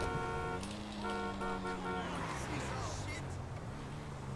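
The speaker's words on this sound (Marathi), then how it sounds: "मी तर फक्त हॉर्न वाजू राहिलो." A car horn honks in GTA 5 while driving through game traffic, steady sustained tones over engine and street noise, with people talking throughout.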